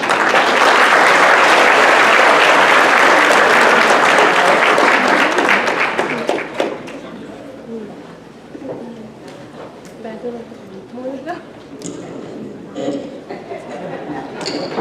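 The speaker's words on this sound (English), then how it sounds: "Let's give them another round of applause." Guests at an Arab American community Christmas party give a loud round of applause that lasts about six seconds, then gives way to scattered chatter and room noise.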